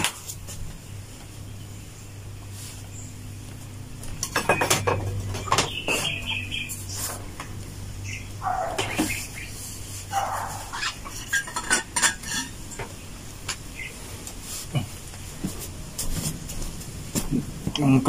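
Clattering metal cookware and utensils as a pot is handled while coffee is prepared, with scattered knocks and scrapes close by, over faint background hum and occasional bird chirps.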